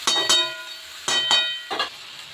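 Masala for a vegetarian kofta curry sautéed in a pan, giving three short bursts of sizzling and stirring with quieter frying between them, close and fairly soft, with no voices.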